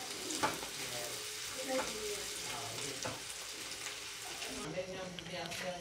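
Fried egg and onion with fresh coriander sizzle in a pan while being stirred, a steady frying hiss with occasional scrapes of the spoon and some speech in the background.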